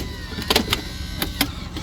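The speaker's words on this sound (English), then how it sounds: "he's going to pinch the fender there, so then it's going to make the gap in the door a little bigger" A hydraulic extrication tool pinches the fender of an old Saturn car during a rescue demo, giving short bursts of sharp metallic crunching and squeaks over a low steady hum.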